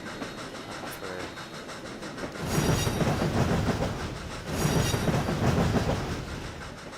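Southern Railway 4501 steam locomotive in the Trainz game rolls past with steady rumbling wheel noise and clickety-clack, swelling louder in two passing waves, with no talk.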